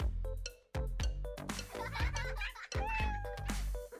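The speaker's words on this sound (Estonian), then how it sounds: "Mu kass." A cat meows repeatedly and loudly up close, a run of drawn-out, wavering cries with short gaps between them, heard alone without talk.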